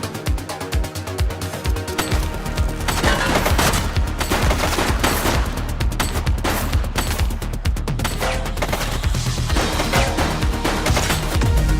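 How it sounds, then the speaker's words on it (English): Sustained, loud automatic gunfire rattles almost without a break during a police shootout in The Precinct video game, with dense rapid shots and booming impacts over the whole stretch. "Shots fired!"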